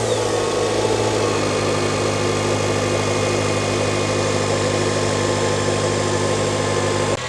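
A 2006 Acura TSX settles into a steady, even idle right after starting, a close, continuous low engine hum with faint mechanical whine and no talking.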